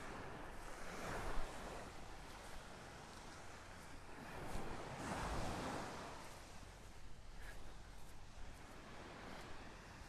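Ocean surf and wind on Pelican Bay Beach in North Naples, Florida, on a morning walk: steady rolling waves with swells, and gusty wind buffeting the microphone throughout.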